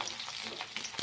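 Chopped onions crackle in hot oil in a pan, a steady close sizzle with brief bright spatters, no voices.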